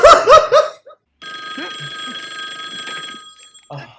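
A movie telephone rings with a steady electric bell tone for a few seconds after a burst of laughing voices, and talk resumes briefly at the end.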